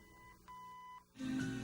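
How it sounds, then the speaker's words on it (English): Two steady electronic beep tones from a 1966 Ford AM 8-track car player, each about half a second, sounding one after the other, followed by a louder burst of low hum and noise. "There's our beeps."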